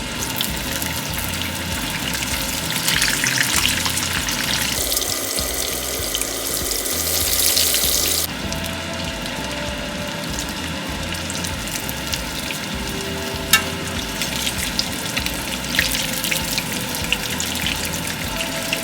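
A battered pork chop fries in hot oil with a dense, steady hiss and bubbling that fills the whole stretch, and a brief brighter surge partway through.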